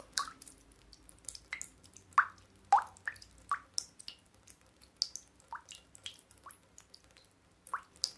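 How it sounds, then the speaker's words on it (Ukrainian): Slow, irregular water drips from a melting icicle in spring sun, plopping one after another, fairly quiet and close, with nothing else around them. "Ця бурулька зігрілася на весняному сонечку і почала танути."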